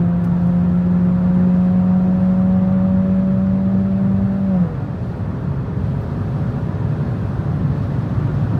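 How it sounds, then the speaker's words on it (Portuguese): A turbocharged Chevrolet Cruze with a Stage 2 chip tune drones at a loud, steady engine pitch, then drops sharply midway into a lower, quieter rumble, heard close and without talk. "O carro vem crescendo,"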